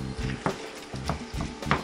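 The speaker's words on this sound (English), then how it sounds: "while your hamburger's frying up, you pour some in there." Hamburger meat frying in a pan, a soft sizzle broken by a few stirring scrapes, close by with no talk.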